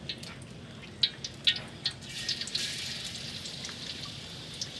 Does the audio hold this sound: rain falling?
yes